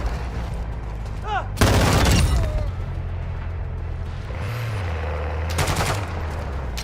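Bursts of rapid gunfire crackle loudly in two volleys in the video game DMZ, with game sound effects and a low hum between them.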